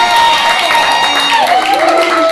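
A crowd at a metal show in a pit cheers and claps for the band, loud dense applause mixed with shouting and an announcer's voice over it.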